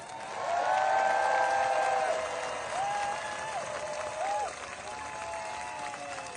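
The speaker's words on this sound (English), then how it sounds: "Please give a warm round of applause for Jessica Denson." A protest crowd in Washington, DC applauding a speaker: moderate, slightly distant clapping that swells and then eases, with voices heard over it.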